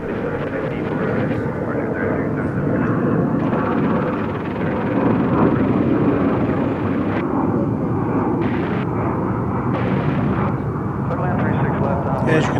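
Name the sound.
Frontier Airlines plane passing at DFW Airport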